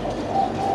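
Spotted dove cooing in a natural setting, a low steady coo that continues through the moment with faint background noise and no other sounds.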